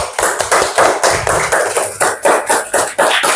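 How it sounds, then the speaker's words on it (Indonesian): Classroom applause from students, a fast, dense burst of hand clapping that stays loud and even for a few seconds with no talking over it. "Kita tepuk tangan buat semuanya."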